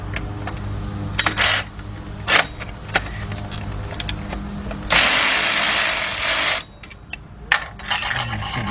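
A 3/8-drive ratchet with a 15mm shallow socket loosens a nut on a Chevy Equinox engine during a head gasket rebuild, making close, sharp clicks and metallic taps, with one longer steady burst of ratcheting midway.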